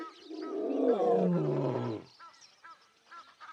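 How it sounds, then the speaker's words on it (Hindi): A wild lioness roaring, one long, loud, deep roar that slides downward and cuts off after about two seconds, followed by faint quieter sounds with no talking. "वो दहाड़ती है"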